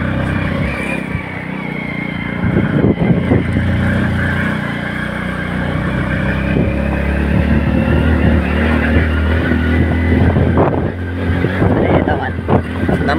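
Vehicle engines drone steadily as they climb a hill road near Wai, Satara. The low motor rumble holds throughout, with people talking over it.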